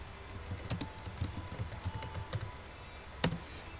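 A computer keyboard is typed on while a command is entered for router configuration. Crisp plastic key clicks come in quick irregular bursts, with one louder keystroke near the end. The keys sound close and there is no speech.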